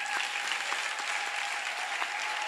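A congregation at a church celebration gives God a steady, continuous round of clapping. The applause stays even and fairly distant, with no voice clearly above it.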